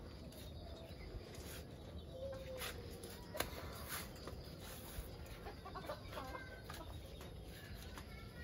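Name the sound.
phoenix and onagadori chickens clucking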